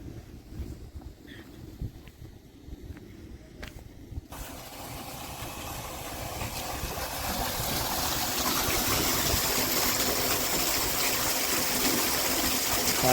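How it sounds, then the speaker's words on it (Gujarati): Water rushes from an opened irrigation valve in a wheat field, building from a quiet start into a loud, steady broadband gush that fills the rest of the clip. "હવે આવો પાણીનો અવાજ આવે ને"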